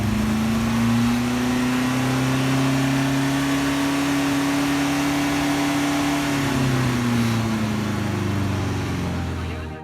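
A home-built DIY car's engine revved and held near 4,500 RPM in a hotel parking lot, a loud continuous droning hum at steady pitch that dips slightly as revs fall near the end.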